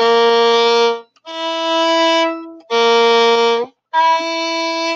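Four sustained bowed-string notes, each held about a second with short gaps, the pitch moving between a lower and slightly higher tone; clear and close, no talking.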